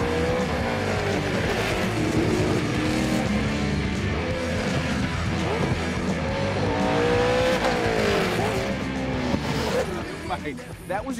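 A race car driven hard by a driver, heard from the passenger seat: loud engine revving with shifting pitch, squealing tires through corners, and speech mixed under the roar.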